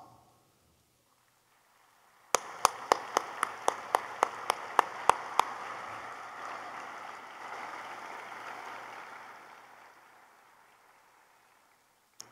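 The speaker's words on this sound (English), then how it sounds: "please stand for a round of applause" At a dental school White Coat Ceremony, an audience applauds the faculty. About ten crisp, separate claps sound first, then spread into a soft, steady wash of clapping that gradually fades to silence.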